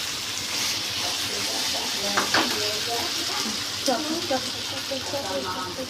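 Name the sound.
stirring and frying arbi (taro) vegetable in a pan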